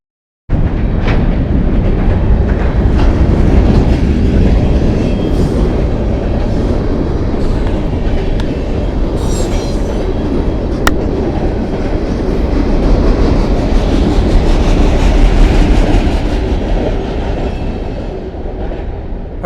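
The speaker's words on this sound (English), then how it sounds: "Now this train is coming, so I'm going to have to interrupt this for a minute." A train rolls past close by, a loud continuous rumble with rhythmic clickety-clack from the wheels that persists throughout, with no voices over it.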